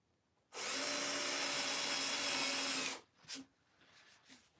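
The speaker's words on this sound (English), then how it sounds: "Drill the other hole." A power drill bores a second hole in wood at a custom woodworking bench, one loud continuous whir of about two and a half seconds, followed by a few soft knocks as it stops.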